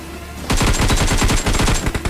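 Rapid automatic gunfire in a battle royale video game, a sustained close burst of evenly spaced shots lasting under two seconds after a brief quiet start, loud and with no talking.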